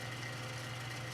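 A 60-year-old Coca Cola WD5 cooler runs with a steady, low mechanical hum that stays even and unbroken, heard close with no talk.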